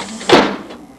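A single door opened at home during the 1996 blizzard, with a short whooshing scrape that rises sharply and then fades over about half a second, close and fairly loud.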